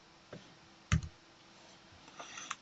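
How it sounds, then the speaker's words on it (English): A few soft, sparse clicks from a computer keyboard, one sharper key press standing out, in a quiet room with no talking. "I'm just going to type my GL code straight in."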